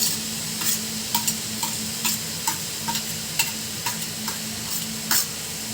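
Almonds fry in a pan for ukadi modak while a spoon stirs them, giving a continuous soft sizzle broken by a dozen or so sharp, regularly spaced scrapes and clinks.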